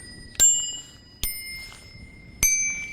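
Bicycle bells, four of them fitted to one bike, struck three times at roughly one-second intervals, each a bright metallic ding with a ringing decay, close and clear against quiet background.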